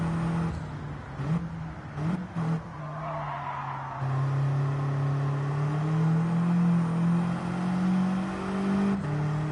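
A 2010 Volkswagen Scirocco R with a front-mounted engine is driven, its engine holding a steady drone that rises in pitch after a gear change, with a few brief clicks early on and no talking.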